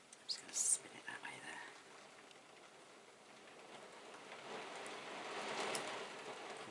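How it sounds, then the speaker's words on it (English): Rain falls steadily outside, a soft continuous hiss of drops on surfaces heard from indoors, slowly swelling louder toward the end, with brief quiet voice and handling noises near the start. "Listen to that rain."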